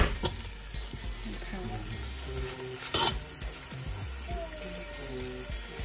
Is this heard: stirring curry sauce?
yes